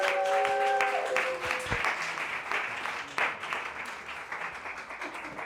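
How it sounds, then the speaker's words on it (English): Audience applause for a feature poet at a poetry reading, steady clapping from the start that slowly fades over several seconds with no talk over it. "Can we give a round of applause for 4-3?"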